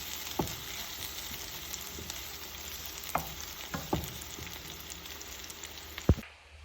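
Garlic and onion frying in a pan until browning, a quiet steady sizzle broken by a few sharp clicks and taps of a utensil against the pan.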